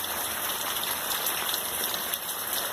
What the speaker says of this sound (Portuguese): Hoje aqui em Recife amanheceu o tempo chuvoso